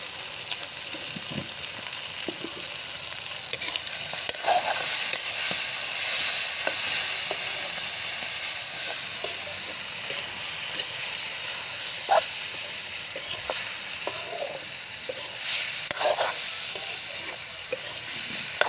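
Potatoes frying with salt give off a steady loud sizzle and hiss for the whole stretch, with scattered clacks of stirring that come at an irregular pace. No one speaks.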